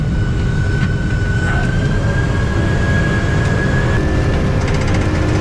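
Inside a twin-engine airplane taking off, a loud, constant engine roar fills the cabin, with a steady rising whine carried over the drone.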